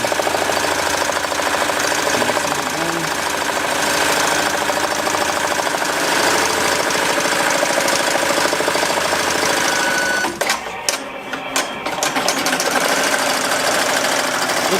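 A Melco Bravo X embroidery machine stitches the border of a patch design with a loud, rapid, continuous mechanical chatter and hum, close up, faltering briefly near the end before resuming, with no speech.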